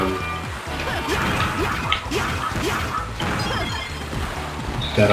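Model L in the video game Mega Man ZX Advent throws up waterfalls, producing continuous splashing and crashing water. Whooshes and sharp splashy hits recur throughout at a fairly loud, steady level.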